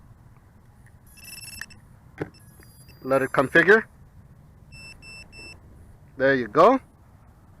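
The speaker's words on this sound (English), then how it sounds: "Nice to hear those beeps." Several short electronic beep tones, high-pitched and thin, sound from a micro brushless quadcopter at startup between bursts of someone talking nearby.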